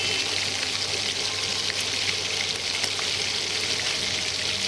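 Pieces of fish for a Bengali fish curry, including steak cuts and a half head, sizzle steadily in very hot oil skin side down, a dense continuous hiss with faint pops, close up and alone.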